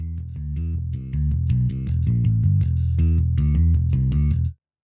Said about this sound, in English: The bass is made by a plugin called Evolve from Heaviosity,